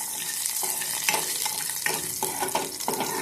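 Tamarind, dried red chillies and curry leaves frying in hot oil as a tempering for rasam: a loud, continuous close sizzle broken by a few quick stirring clinks and scrapes.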